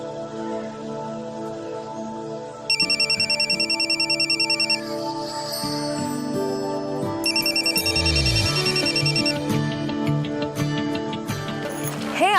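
A phone rings during an outgoing call, with a steady electronic ringtone that repeats in patterned bursts over a background music bed, loud and close.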